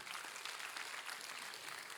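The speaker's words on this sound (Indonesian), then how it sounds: "Beri tepuk tangan yang meriah betul." Congregation applause during a church sermon, a dense, even patter of many hands clapping at a distance, fairly faint and steady throughout with no voices.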